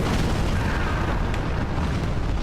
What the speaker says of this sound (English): You, sir, explode